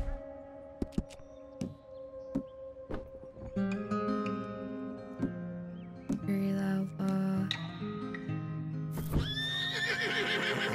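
A horse neighs and whinnies loudly with clip-clopping hooves in Red Dead Redemption 2, amid layered game music and effects, the neighs rising near the end.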